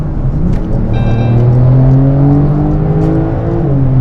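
A car accelerating hard from a stop on a test drive in Dubai: a loud, close engine drone whose pitch climbs steadily through the gear, with no voices over it.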